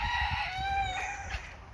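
Indoor poultry under a bird flu housing order: nearby chickens cluck and a rooster crows, with a drawn-out call over soft low scuffling.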